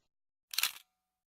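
A single sharp camera shutter click from a Nokia 7 Plus phone, close and brief, in otherwise near silence.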